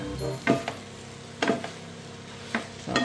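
Bitter gourd (ampalaya) sautéing in a pan is stirred in a few quick scraping strokes, each rising out of a low, constant sizzle, close and clear with no voices.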